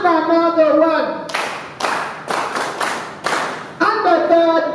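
An audience at a workshop gives a series of short, loud bursts of clapping in unison for welfare officers, with a voice speaking before and after the claps.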